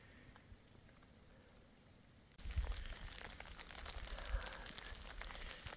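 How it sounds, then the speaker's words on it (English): Freezing rain mixed with heavy snow patters steadily in a dark wooded area during deer season, soft and faint at first, then turning louder and denser with dull low thumps partway through. "It's like a freezing rain snow."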